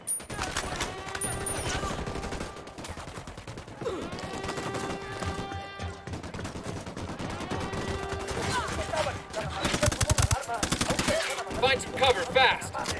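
Gunfire in the video game Ghost Recon Wildlands: sharp repeated shots and automatic bursts crack through a busy battle soundscape, growing denser and louder toward the end, with horse sounds and game effects mixed in.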